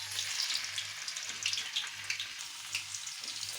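Paneer pieces frying lightly in oil in a pan, a quiet continuous crackling sizzle with bright spitting pops, steady and close throughout with no voices.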